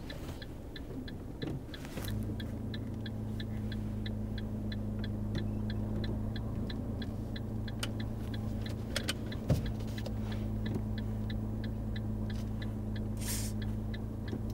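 Car reversing into a parking space beside another vehicle during a driving lesson, a steady close engine drone with low rumble and a regular ticking indicator clicking throughout, no one talking.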